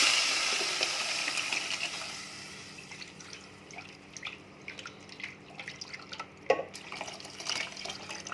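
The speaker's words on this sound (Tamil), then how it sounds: "இப்போ நம்ம கரைச்சி வச்சுருக்கிற புளி தண்ணியை மசாலா தண்ணியை ஊற்றிக்கலாம்." Tamarind and masala water poured into a pan for fish curry, a broad liquid splash at the start fading into softer drips and small sizzling pops, close and moderately loud with no talking.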